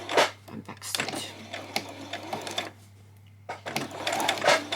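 A sewing machine back stitches elastic onto a skirt in short whirring bursts, moderately close, broken by a brief pause before stitching resumes.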